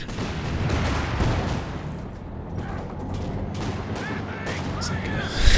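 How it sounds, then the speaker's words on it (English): Mortar pits firing in the World War II strategy game Company of Heroes 2: dense booming and crackling impacts over a rumbling battlefield, loud and continuous, with a heavier thud at the end and voices talking over it. "when those mortar pits hit"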